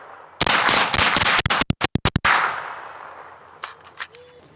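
HM Defense Stealth M5 rifle fired outdoors in a fast string of about eight sharp, loud, closely spaced shots, then a ringing decay and a few fainter clanks and taps.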